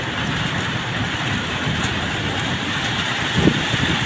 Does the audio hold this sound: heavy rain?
yes